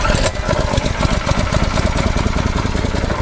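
A KTG 210PRO 7-horsepower tiller engine, just pull-started, runs steadily at a fast idle, a continuous buzzing drone with rapid low pulsing throughout, fairly loud and close.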